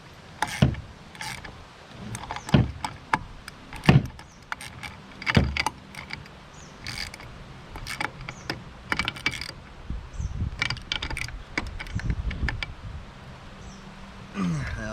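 Ratcheting clicks from a 9/16 socket tightening a nut while a MotorGuide Xi3 trolling motor is fitted to a kayak, heard as scattered sharp metallic ticks and short bursts over about fifteen seconds, close and moderately loud.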